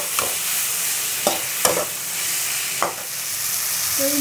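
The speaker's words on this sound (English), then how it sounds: "Just fry it for a while until the raw smell goes." Spices and salt frying in a pan for paneer butter masala make a steady, close sizzle, broken by a few sharp scrapes of a spoon stirring the mixture.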